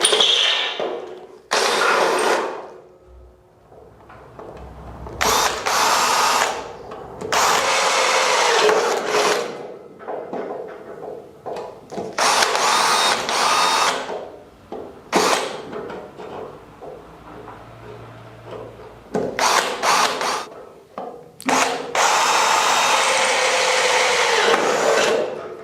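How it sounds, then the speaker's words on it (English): Short bursts of a power drill boring holes into a 4x4 Land Rover 300TDi chassis, loud grinding whines of a few seconds each, separated by pauses, close up in a garage workshop. "that's the first bunch of holes drilled for my plug welds that I'll be using later on"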